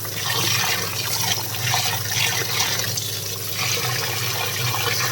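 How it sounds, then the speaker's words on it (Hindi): Running water pours steadily over boiled food as it is washed in a kitchen, a loud, constant close gush with no voices. "अब जैसे उबालने के बाद धोना ज़रूरी होता है, जैसे मैं अच्छी तरह से धो लूँ।"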